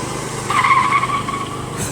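Car brakes locking up into a loud tire skid, a sustained squeal lasting over a second with engine rumble underneath, close by.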